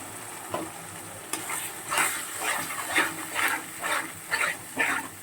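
Ground spices with turmeric and chili powder being sautéed and stirred in a pan, a steady sizzle with rhythmic scraping strokes repeating about every half second, fairly close and moderately loud.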